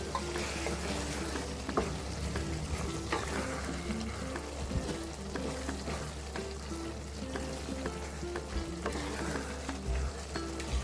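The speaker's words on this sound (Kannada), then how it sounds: "ಈಗ ರೋಸ್ಟ್ ಮಾಡಿರೋದು ಪನ್ನೀರ್ನ ಫ್ರೈ ಮಾಡಿರೋದು ಹಾಕ್ತಾಯಿದ್ದೀನಿ" Fried paneer goes into a pan of sizzling masala with a dense, continuous crackle and frying hiss, plus soft stirring scrapes, close and fairly quiet.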